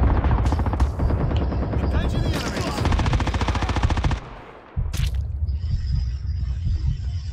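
Rapid automatic gunfire from the mobile game Call of Duty Mobile rattles in dense bursts, stops briefly, then resumes with more shots over a hissing background and a faint mechanical hum.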